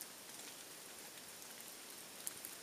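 Rainwater drips from trees onto a backwoods shelter at Birch Pond after the rain has stopped, a faint, steady patter of scattered drops with no talking.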